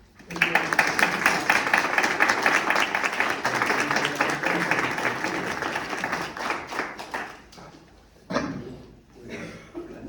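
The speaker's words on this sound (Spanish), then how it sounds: "yo quiero dar un aplauso al coordinador del centro" An audience applauds the centre coordinator at a short-story prize ceremony, a loud, dense burst of clapping that thins out and fades, with voices and scattered claps near the end.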